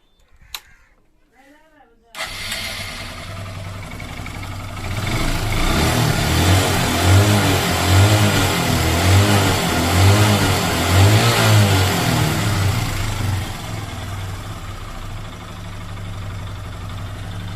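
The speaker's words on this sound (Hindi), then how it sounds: "तो देखा इंजन का आवाज़ जो है तो परफेक्ट अच्छा बन गया है" A Hero Super Splendor BS4 motorcycle engine starts after being refitted following an engine fault, then runs loudly up close with a steady throbbing idle, several revs rising and falling midway before settling back to idle.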